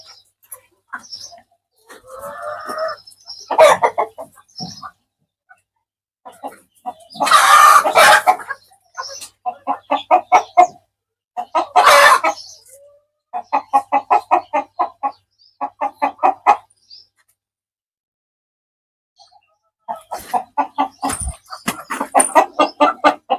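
Village-breed chickens cluck inside a coop in short bursts of repeated notes, close by, with pauses between groups of calls and no voices.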